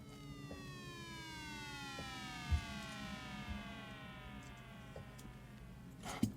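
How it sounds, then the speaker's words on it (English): A dub siren effect: several falling synthetic tones sweep down in overlapping layers, with a couple of short thuds underneath. "Obviously Jake's dub siren magic."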